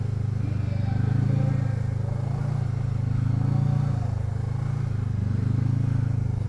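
Voge 500DS (Loncin DS7) motorcycle engine droning steadily at lower riding speed, a continuous loud low hum with gentle swells in pitch as the throttle varies, heard alone without talk.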